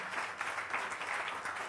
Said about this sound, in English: You can give the Lord a clap if you will.